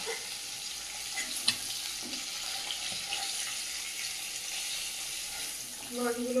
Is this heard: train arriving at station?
no